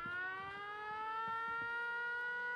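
A building alarm siren in the video game Fallout 76 wails loudly and continuously with a slowly rising pitch, mixed with faint thumps and clicks of game action.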